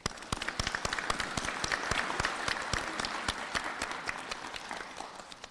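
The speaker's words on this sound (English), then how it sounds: "provide a round of applause to the friends and the family members who have supported" Warm applause from a graduation pinning ceremony crowd, honoring graduates' friends and family members, with many hands clapping steadily at a moderate distance, fading slightly near the end.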